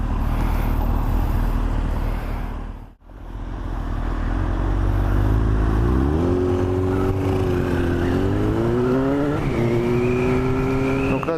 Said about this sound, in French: Donc là toujours freinage d'urgence avec le demi-tour à droite cette fois-ci.